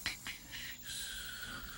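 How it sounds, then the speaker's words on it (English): A hamster snores with steady, raspy, wheezing breaths and small snorts, close and continuous over a soft hiss of background noise. "you might have trouble hearing me over Hammy snoring anyway"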